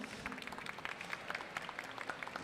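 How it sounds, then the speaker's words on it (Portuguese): An audience claps steadily to welcome a speaker onto the stage at a talks event, a soft, even patter of many hands at moderate distance with no talking. "Gente, palmas para o Tom aqui."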